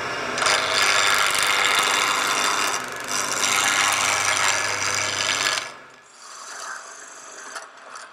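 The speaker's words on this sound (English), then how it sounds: "the main tool we use here is a spindle gouge." A spindle gouge cuts a small wooden measuring spoon on a wood lathe, making a loud, continuous rasping scrape. It breaks briefly once, then drops to a quieter spinning whir with light scrapes.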